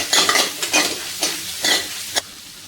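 Red chillies and curry leaves tossed in a hot pan, sizzling loudly in bursts as a spoon stirs them, roughly four sweeping stirs with a sharp scrape near the end.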